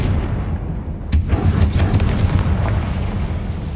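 A Confringo spell explosion in the video game Hogwarts Legacy: a sudden sharp blast about a second in, followed by rumbling, crackling debris and a few smaller bursts that fade under steady background noise.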